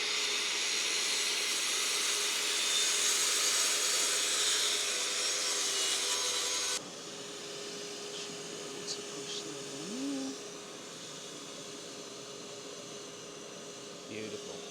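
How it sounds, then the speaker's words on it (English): A table saw cuts wood for a stable door with a loud, steady whirring rasp for about seven seconds, then drops to a quieter hum as the blade runs free. "we run it over the top of the saw with a bit of assistance from Ali"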